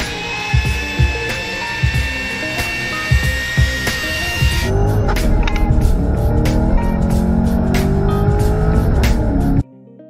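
A loud, roaring Chevy small block V8 engine revs hard with tire squeal and a racing car sound, holding steady and close for most of the span before cutting off abruptly near the end.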